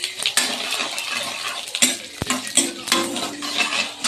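Whole spices, cumin, cinnamon, two cardamom pods, bay leaf and a pinch of asafoetida, crackle in hot oil for chana dal, with a constant near sizzle broken by metal spoon clinks and scrapes against the pan.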